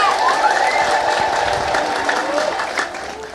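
A church congregation ululating in praise, many voices trilling high and wavering together in a dense, sustained chorus, with clapping and crowd noise mixed in.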